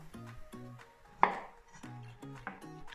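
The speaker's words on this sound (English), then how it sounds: "I'm gonna cut the zucchini to the 3 parts." A knife cuts through a zucchini on a board in a few crisp, separate chops, each a short close knock, with one sharper louder strike in the middle and quiet pauses between, no voices.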